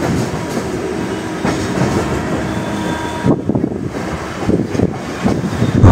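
A train rolls through Yeshwantpur railway station in Bengaluru, a loud continuous rumble with wheel clatter and wind buffeting the microphone, heard from on board.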